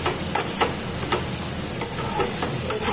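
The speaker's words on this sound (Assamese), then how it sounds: "এইখিনি মই ধুনীয়াকৈ এনেকৈ ভাজি থাকিম" Potatoes fry in a pan with a constant close sizzle, broken by sharp spatula clicks and scrapes against the pan every half second or so as they are stirred.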